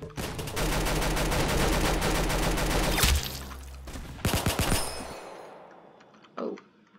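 Rapid automatic fire from an AUG rifle in the Roblox-style shooter Arsenal, a loud sustained burst of video-game gunfire that stops, then a shorter volley before fading to near silence.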